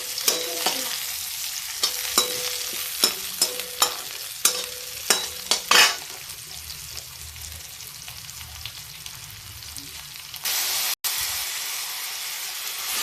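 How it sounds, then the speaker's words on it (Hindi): Onion frying in a pan with garlic for radish-leaf kofta, a steady close sizzle and hiss with repeated sharp stirring scrapes and clicks in the first half, then a continuous frying hiss alone. "प्याज है। अब एक साथ इसको भून लेते हैं।"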